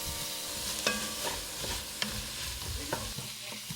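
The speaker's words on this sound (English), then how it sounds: "We want a little bit of that browning of the veggies as well." Vegetables sizzling and browning in a pot over high heat, with a steady frying hiss broken by occasional scrapes and knocks of a stirring utensil, close and moderately loud, no talking.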